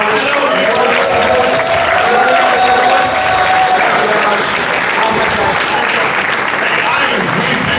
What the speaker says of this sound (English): just get a round of applause for Alex Jones for building InfoWars?